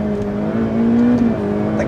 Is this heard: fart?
no